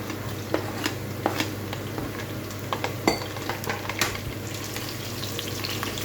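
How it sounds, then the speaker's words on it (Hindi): Garlic and onion sizzle steadily in a hot pan, with occasional scraping and clinks of a utensil stirring. "एक दो मिनट इसको सौटे करेंगे"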